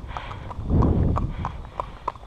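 A two-year-old horse is ponied alongside another horse, and its hooves clip-clop at a relaxed walk. The footfalls are moderately near and fairly soft, with a brief swell of rustling noise in the middle.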